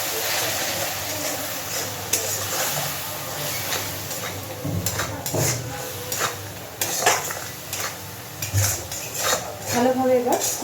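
Bengali-style spice paste, loosened with a splash of water, stirred and fried in a pan for ghugni made with fat, giving steady scraping of a spoon against metal over a low sizzle, with clinks and a faint voice in places.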